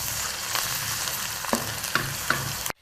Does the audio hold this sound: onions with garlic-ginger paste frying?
yes